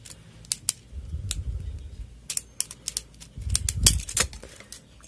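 Beyblade top parts click and snap together up close in a run of sharp plastic clicks and ticks at an irregular rhythm, with some low handling rumble underneath.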